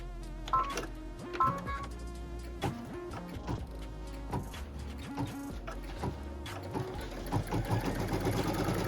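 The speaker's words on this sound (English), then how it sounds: "What it's stitching right now is this template right here in the instructions." A computerized sewing machine stitches a pieced quilt block template, giving a busy, mechanical whir with rapid needle ticks and pulses. It continues steadily and nearby, with no talking.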